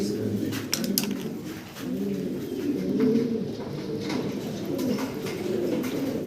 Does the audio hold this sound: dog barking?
no